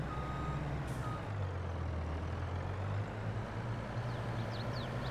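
Truck in Farming Simulator 22 reversing with a faint steady backup beeper over a low diesel idle rumble, quiet and continuous with no talking.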